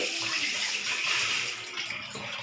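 Water poured into a pan holding ground cumin paste, a short continuous rushing splash lasting a couple of seconds, close and fairly loud, with no talking.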